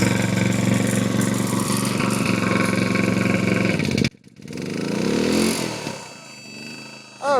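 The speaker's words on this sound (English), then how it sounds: "maybe because the engine's cold" A generator engine, run alongside a PowerSmart 6-ton electric log splitter, roars steadily and loud, then cuts out abruptly, and after a pause it restarts and revs back up while cold.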